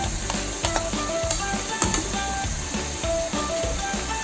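Ginger paste hits frying spices in a pan over low heat for mutton ghugni, giving a dense continuous sizzle with rhythmic scraping and stirring strokes throughout, close and fairly loud, with no talk.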